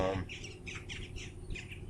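Birds chirp in short, bright bursts at a moderate distance, a quiet scatter of tweets repeating every fraction of a second against soft background hiss.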